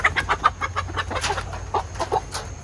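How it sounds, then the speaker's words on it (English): An Americana hen at a backyard chicken coop clucks in a rapid, steady series of close, moderately loud clucks, with several slightly louder calls toward the end. "let me see if I can get my number 1 chicken"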